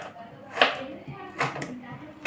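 A knife chops small potatoes on a board in two distinct, fairly close strikes with a short gap between them.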